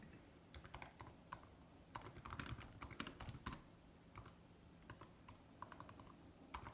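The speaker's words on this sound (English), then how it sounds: "let me type this one on my calculator" A calculator's keys are tapped in quick irregular bursts of light, close clicks with short pauses between runs. The sound is quiet and isolated, with no voices.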